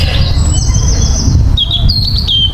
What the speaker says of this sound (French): elle écoute les oiseaux